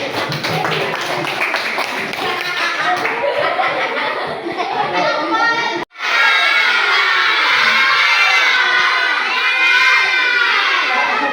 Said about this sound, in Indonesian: Tepuk tangan buat Aji.